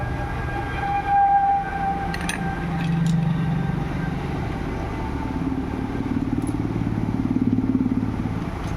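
A motorcycle engine runs steadily up close, a continuous low rumbling drone with a slight rhythmic pulse that swells a little near the end, with a few faint metallic ticks above it.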